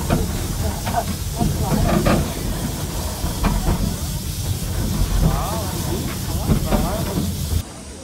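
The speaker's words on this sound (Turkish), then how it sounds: "o kadar eski bir tren ki buharlı bir tren ve Japonya'da şu anda çalışan en eski tren buymuş" An old steam train, the oldest still running in Japan, gives off a loud, continuous hiss with rumbling and faint clanks, while people talk over it.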